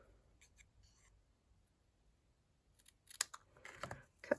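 Scissors cutting paper for a layered card craft, a few quiet snips early on, then a closer, louder cluster of crisp cuts near the end, otherwise near silence.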